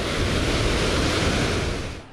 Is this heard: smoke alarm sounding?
no